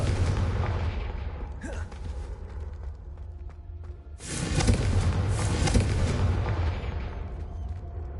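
A Confringo fire spell explodes in a wizard video game, giving a heavy booming blast that swells and roars for several seconds over a rumbling low background, with an earlier sharper burst before it.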